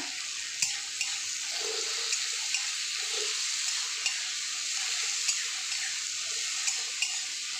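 Ginger and tomato fry in a hot pan with a constant bright sizzle, while a utensil stirs and taps the pan at a roughly regular pace throughout.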